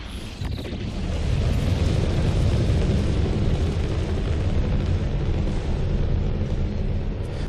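A deep, roaring rumble surges up after a brief pause and holds steady, loud and full: a Panther Clipper's Class A thrusters boosting from a standstill in Elite Dangerous.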